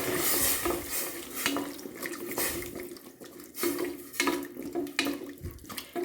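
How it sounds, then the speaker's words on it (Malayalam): A glass of water is poured into a cooking pot of potatoes, with splashing and trickling water and light clinks of a pot and utensils, fairly close and continuous. "ഇതിലേക്ക് ഒരു ഗ്ലാസ് വെള്ളം ചേർക്കാൻ നമുക്ക് ഉരുളക്കിഴങ്ങ് വേകണമല്ലോ"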